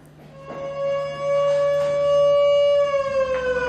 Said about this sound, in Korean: 갑자기 부대 안에 비상 사이렌이 울립니다.